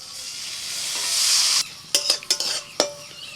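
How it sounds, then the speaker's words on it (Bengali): Ginger, green chilli, cashews and melon seeds are frying when water is poured in. A loud hiss swells and then cuts off abruptly, followed by several sharp clinks and scrapes of a utensil against the pan. "সব কিছু একদম হালকা করে ভেজে নিয়ে এর মধ্যে আমি জল দিয়ে দিচ্ছি"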